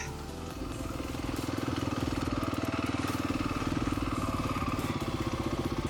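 A dual sport motorcycle engine chugging at low RPM on a snowy mountain trail ride, a steady rapid thumping pulse with rumble and rattle, close and continuous.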